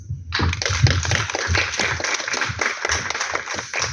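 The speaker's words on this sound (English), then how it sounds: "Please give him a big round of applause." An audience at a film festival Q&A claps for the film's director, a dense, steady patter of many hands with a few sharper, louder claps standing out near the microphone.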